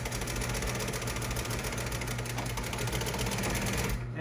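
Sewing machine stitching commercial upholstery dining seat covers, a fast steady mechanical whir running continuously and close, then cutting off at the end.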